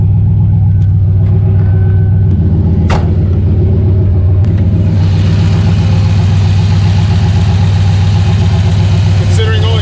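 A modified junkyard car engine idling loudly up close, a steady deep rumble with a couple of sharp clanks and a shift in tone midway, running continuously without speech.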